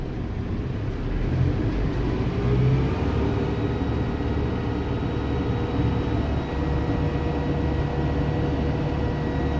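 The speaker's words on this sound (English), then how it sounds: "I'm gonna pick up the back of the brush hog, turn the PTO on," A Kubota M7060 tractor drives an RCF3010 brush hog through the PTO while clearing large brush. It gives a steady, loud low rumble of engine and spinning mower with no break and no voices.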